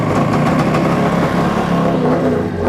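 A 1997 Yamaha SuperJet jet ski engine fires up and runs, a loud, close, steady buzzing roar with slight pulsing through the short stretch.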